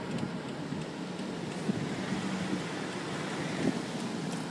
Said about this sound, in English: Gust of wind.